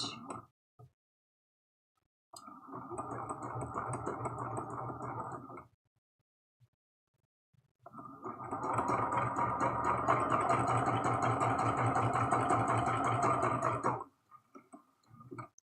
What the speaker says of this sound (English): we're just going to be sewing all the way around.